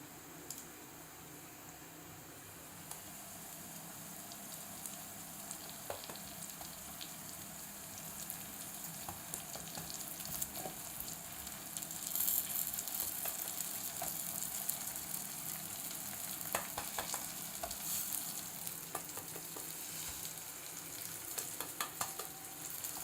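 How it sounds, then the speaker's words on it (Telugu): Onion slices sizzle steadily as they fry in a pan, a constant hiss with occasional scraping and stirring clicks layered on top, heard alone with no talking. "ఉల్లిపాయ ముక్కలు అయితే ఫ్రై అయ్యాయి"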